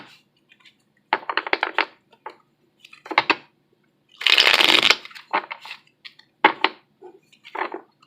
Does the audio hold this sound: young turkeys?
no